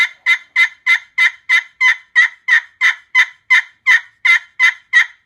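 Turkey call played on a ceramic friction surface, a loud, close, steady run of about sixteen evenly spaced raspy yelps, imitating a hen turkey, with no talk.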